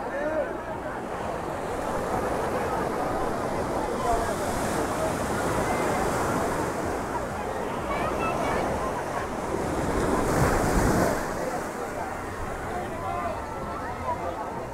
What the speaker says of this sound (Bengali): সমুদ্রের যা উতাল পাতাল